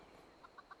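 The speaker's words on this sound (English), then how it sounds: "Where is a cow, there should be a chicken." Chicken clucking in the video game Fallout 76, four short, evenly spaced clucks over a steady ambient hum, fairly faint.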